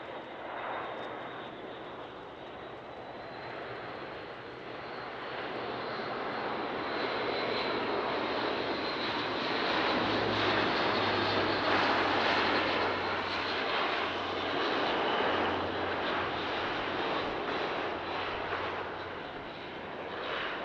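An Airbus A400M makes a low-speed pass at an airshow with flaps and landing gear extended, its turboprop engines a steady broad roar that swells as it nears and holds loud through the pass.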